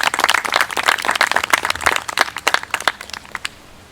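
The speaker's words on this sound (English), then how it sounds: "I dare say we should all applaud you" Audience applause at the Maine Ocean School Class of 2020 graduation: dense, steady clapping from a crowd for about three seconds, then thinning and fading out toward the end.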